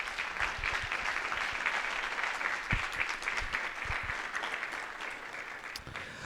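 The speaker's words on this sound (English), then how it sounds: "So please give me a round of applause to welcome Bart Patterson." Audience applause at Nevada State College's 2016 State of the College address welcoming Bart Patterson, a steady, moderately distant wash of clapping that holds evenly throughout.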